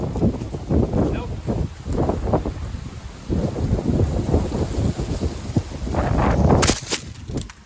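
Strong wind of around 15 mph buffets the microphone on a golf course in loud, rumbling gusts that rise and fall throughout.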